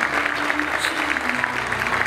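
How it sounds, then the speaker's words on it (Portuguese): Sustained applause from a pageant audience at the Miss Foz do Iguaçu 2019 contest for the candidates on stage, moderately loud continuous clapping with a faint musical tone running beneath it. "Uma salva de palmas a essas candidatas maravilhosas."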